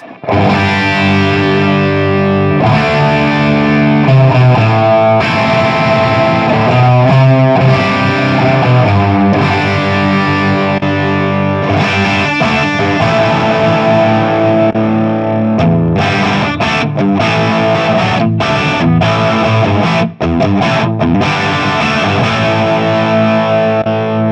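Electric guitar played through an FM9 Plexi 100 amp model with a heavily distorted, fizzy rock tone, loud and continuous, mixing sustained chords with choppy riffs and short stops, with no talking.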